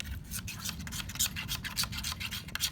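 Stiletto knife blade drawn repeatedly through a carbide sharpener, a close, steady rasping scrape in quick overlapping strokes with a low underlying rumble and no talking.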